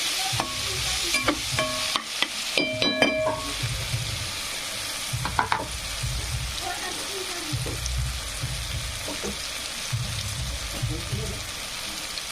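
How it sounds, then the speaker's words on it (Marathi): Onion, garlic and ginger fry in a pan with a constant sizzle while a spatula scrapes and taps the pan in bursts; a voice talks intermittently over the cooking. "कांदा लसूण अद्रक छानपैकी असा फ्राय झालेला आहे मस्तपैकी"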